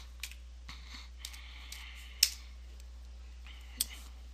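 Soft, sparse clicks of typing on a computer keyboard in a quiet room, a handful of light keystrokes with one sharper tap, faint over a low steady hum.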